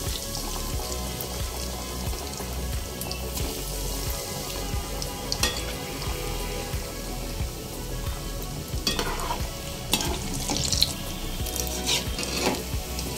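Egg devil chops, a Bengali street-food snack, deep-fry in hot oil with a continuous bubbling sizzle and a few scattered clinks from utensils, steady and close throughout.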